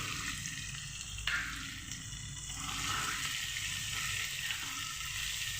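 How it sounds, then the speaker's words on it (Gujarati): Finely chopped onion sautéing in oil in a pan for a dhaba-style chana dal dish, a continuous bright sizzle with occasional stirring scrapes, steady and close throughout. "ડુંગળીને હવે સાતળી લેવાની બ્રાઉન કલર આવે ત્યાં સુધી."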